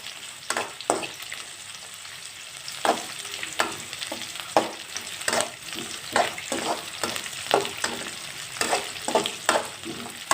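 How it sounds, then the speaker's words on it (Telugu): Crushed garlic cloves fry in hot oil for a tomato coriander rice, with a steady sizzle broken by repeated sharp scrapes and clacks as a spoon stirs the pan. "వేసి లైట్గా వేయించుకోండి, సరిపోతుంది."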